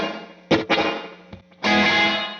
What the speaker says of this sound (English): It'll be functioning almost like a slapback echo.